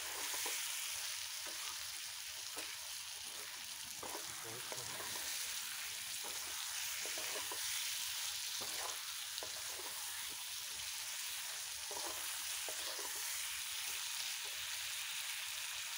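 Spices with salt and a little water sauté in a pan for a cauliflower and fish curry, a dense continuous hiss of sizzling with faint stirring scrapes throughout and no voices.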